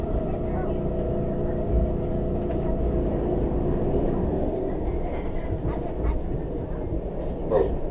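A WMATA Breda Red Line metro train passes outside Grosvenor station with a loud, steady low rumble and rail rattle, and a brief voice near the end.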